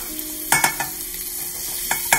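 Ginger and garlic sizzle in a hot pan for Filipino ginataang isda, a steady soft frying hiss broken by a few sharp scraping clatters of a utensil stirring.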